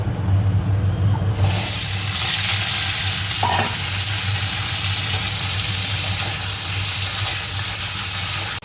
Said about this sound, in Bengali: কড়াইতে তেল দিয়ে পাঁচ ফোড়ন দিয়েছি